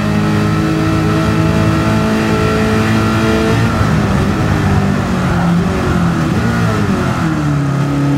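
A Ford GT40 race car engine holds a loud, steady high-speed drone in Gran Turismo 7, its pitch easing down and shifting partway through, with no voices.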